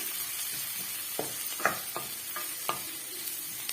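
Onions and soya chunks sautéing in a pan, a soft continuous sizzle with occasional sharp spoon scrapes and taps as the mixture is stirred, fairly quiet and close.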